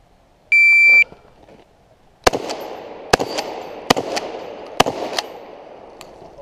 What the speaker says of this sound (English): Sound the beep.